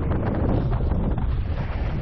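Strong wind rushes past during a paragliding flight, a loud, continuous buffeting roar against the microphone with no let-up and no voices.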